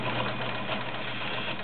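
A vintage Kenmore Model 1601 sewing machine stitches steadily, giving off a brief, even mechanical hum with no pauses.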